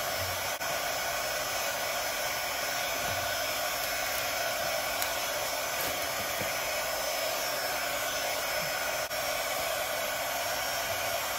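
A heat tool blows hot air onto an acrylic sheet for a wind spinner, a loud, even, continuous hiss and hum throughout, with no voices.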